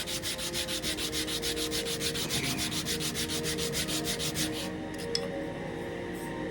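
A 1971 Martin 000-18 guitar top is hand-sanded to remove old glue: a steady, rapid back-and-forth rasping of about twenty close, rhythmic strokes, which then stops and leaves near silence.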